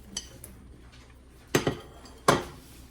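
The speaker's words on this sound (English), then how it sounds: "So let's go ahead and add all the vegetables." Vegetables tumble into a Dutch oven of beef stew, giving a few distinct clanks and clatters against the pot, with two sharp clustered hits followed by a single loud clatter, close up.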